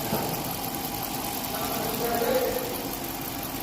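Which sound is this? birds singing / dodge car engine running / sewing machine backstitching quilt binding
dodge car engine running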